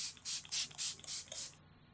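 Makeup setting spray hisses in about six quick, short bursts close up, each a soft airy spritz, evenly spaced, then silence.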